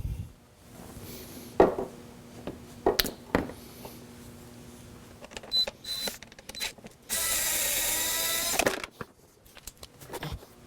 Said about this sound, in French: il va falloir simplement aller dévisser ça pour être capable de tirer sur le bumper